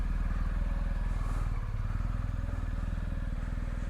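A BMW motorcycle engine idles steadily once warmed up, a smooth, rapid low thrum that stays close and even for the whole stretch with no talk over it.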